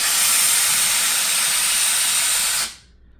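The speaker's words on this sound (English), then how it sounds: "Lots of steam coming off of that." A DG8624 steam station iron releases a loud, continuous hiss of steam that cuts off sharply near the end, with no talk.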